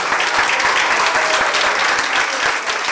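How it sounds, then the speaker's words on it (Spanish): Wedding guests applaud the newlyweds at a reception with a DJ, a short burst of dense, lively clapping from a room full of people, steady and close throughout. "quiero pedir un fuerte aplauso por favor para los novios, para Gabriel y para Alfredo"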